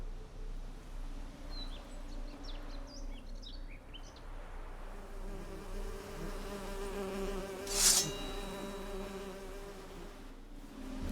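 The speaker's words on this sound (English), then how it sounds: "the bees buzzing" Bees buzz softly and continuously in the background, with a faint high chirp partway through; no voices.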